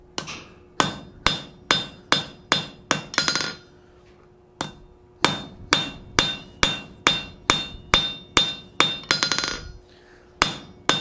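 Hammer blows ring out sharply as a steel cold chisel is forged on an anvil, two rapid runs of about a dozen evenly spaced metallic strikes, close and loud, with a brief pause between the runs.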